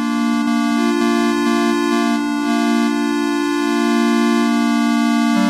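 A steady, buzzy Moog Matriarch analog synthesizer tone with delay drones continuously with layered harmonics, held at a constant loud level without pause.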